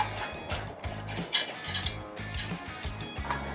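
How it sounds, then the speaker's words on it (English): A cheap 2-into-1 motorcycle exhaust is loosely bolted on, with close ratchet clicks in short repeated bursts and metallic fitting noises across a few seconds. "Bolt that on there, loosely."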